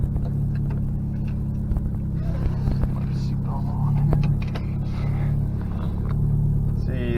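A 1999 Mitsubishi Eclipse GS-T Spyder drives along with a low, steady engine rumble and road hum heard from inside the car, while someone talks over it.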